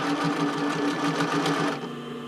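A sewing machine hums and rattles in a fast, steady stitching rhythm as it sews the elastic band of a bra, close and continuous before easing off near the end.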